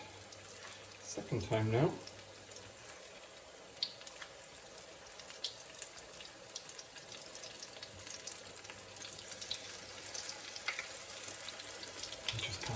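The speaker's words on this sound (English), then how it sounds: "just kind of let that fry away" Onion bhaji batter frying in hot oil, a steady soft sizzle and crackle close by, with a brief splash as a piece goes in early on and a voice speaking quietly over it.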